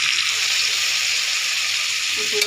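Bottle gourd greens and potatoes sizzle steadily in a hot pan, a continuous close frying hiss with faint stirring scrapes and no talk.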